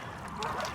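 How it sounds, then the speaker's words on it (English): Geese honk faintly and briefly, blurred into a wash of steady outdoor noise on Rannoch Moor. "That noise you can hear are all the geese"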